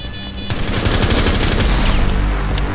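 Sustained, loud rapid gunfire from the video game Rainbow Six Siege, a dense burst of automatic shots that fills the whole moment with no talking.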